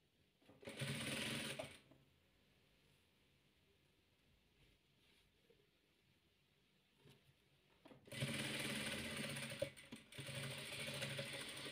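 A sewing machine stitches hexagon patchwork fabric in two loud bursts of rapid mechanical whirring, separated by a quiet pause with faint handling sounds.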